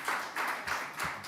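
Hands clap a few times at a steady pace, faint and close, at a conference on European Jewry.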